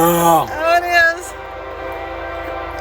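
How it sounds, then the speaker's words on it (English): A train horn sounds loudly up close, its harmonic blast dropping in pitch as the locomotive passes, then a steady rumble of rail cars continues with people talking over it. "I think it's gonna be a train."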